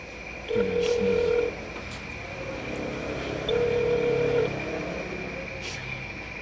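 A telephone call is placed in Korea: two long ringback tones sound clearly over a steady hum and faint background noise.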